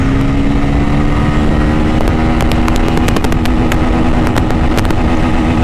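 A motorcycle engine revs hard in first gear, either a Yamaha FZ25 or a Pulsar N250, with a loud, steady droning roar close by and a cluster of sharp clicks or ticks scattered through the middle.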